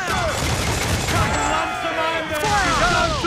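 Ship cannons firing in a naval battle in Assassin's Creed 4: Black Flag, a fusillade of heavy booms and crashes amid shouting crew voices, loud and chaotic throughout.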